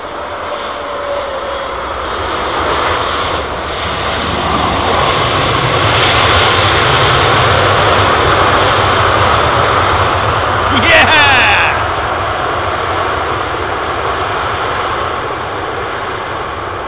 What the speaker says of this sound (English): That's a lot of reverser for a 350, man, for a big piece of carbon.